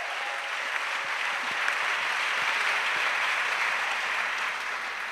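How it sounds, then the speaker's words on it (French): A church congregation claps and cheers for Jesus Christ during a French-language sermon, a dense, steady wash of applause filling the room for the full stretch without pause. "Clap for Jesus."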